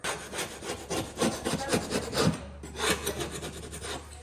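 A putty knife and chisel scrape along a wooden baseboard in a rapid series of rough rasping strokes, close and fairly loud, pausing briefly before the scraping resumes.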